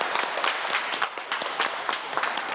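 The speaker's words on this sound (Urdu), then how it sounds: "فیصل عیدی صاحب کو بہت ساری تالیوں میں رخصت کریں" Studio audience applause during a Ramzan iftar television transmission: dense, continuous clapping from a crowd, steady and fairly loud throughout with no talk over it.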